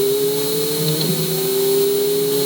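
A Ferrari 488 Challenge EVO engine pulls on a race track, heard from inside the car as a loud, steady, high mechanical whine that holds nearly constant pitch throughout.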